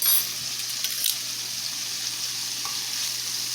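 Chicken breast frying in a pan over medium heat, a steady soft sizzle running the whole time at close range with a faint crackle or two and no talking.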